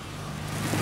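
A neighbour's petrol lawnmower engine catches and revs in a short, rough burst, heard from nearby without any talking.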